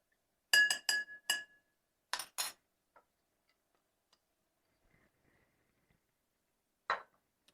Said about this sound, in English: I'm actually going to give it a little swirl to help get the grenadine out of the spoon